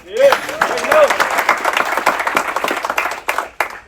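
Passengers aboard a cruise ship applaud crew members being introduced, a loud burst of clapping filling the space, with a few whoops or shouts rising over it early on.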